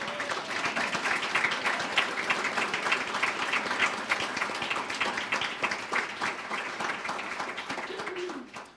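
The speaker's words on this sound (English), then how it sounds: "if we give him a big round of applause" Audience at an open house and service of blessings giving a long, sustained round of applause, dense clapping from many people that holds steady before tapering off at the end, without talk.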